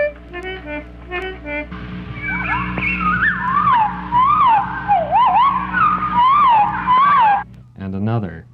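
Maryland yellowthroat song recorded in the field in New England, a loud, clear run of rolling, repeated warbled phrases sung alone over a faint background hum for most of the clip.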